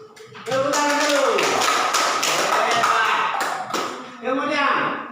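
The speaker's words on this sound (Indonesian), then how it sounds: "Tepuk tangan dulu." A class of schoolchildren clapping their hands together in a rhythmic, patterned burst, loud and close in a classroom, with a voice and the children's voices mixed in and a short pause before the clapping resumes.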